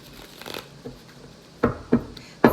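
Tarot cards are shuffled by hand, giving soft riffling rustles and three sharp, close slaps of the deck.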